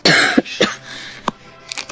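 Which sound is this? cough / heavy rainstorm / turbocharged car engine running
cough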